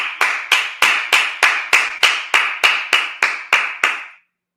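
A congregation claps together at a Sabbath service. Around a dozen loud, evenly spaced claps in unison ring with a short reverberant tail, keeping a steady beat before stopping abruptly.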